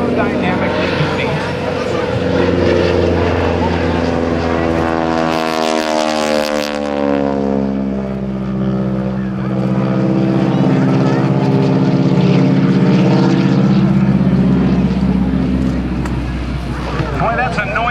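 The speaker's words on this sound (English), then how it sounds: "the propeller tips are actually going supersonic" Propeller aerobatic airplane flying at an airshow, its propeller tips going supersonic, producing a loud sustained buzzing drone with sweeping pitch shifts as it passes and rolls, a commentator talking over it throughout.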